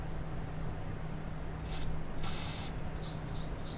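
An aerosol can of lithium grease sprays onto a cable in two short hissing bursts, followed by a few quick faint puffs, close up under a steady background noise.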